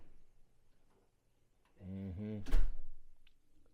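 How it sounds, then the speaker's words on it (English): A door opens with a brief creak followed by a solid thunk, close and fairly soft against a quiet room. "I guess that door is going to open again."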